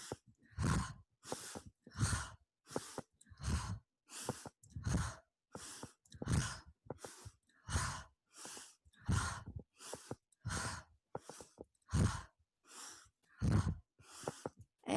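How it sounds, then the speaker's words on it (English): Deep rhythmic yoga breathing, close and audible, with about twenty breaths of inhaling and exhaling in an even, steady pattern and no talking. "Inhale, exhale."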